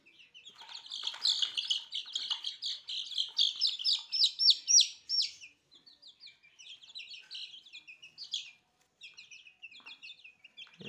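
Native chicken chicks chirp in a dense chorus of high, rapid peeps that thins into sparser, quieter cheeps.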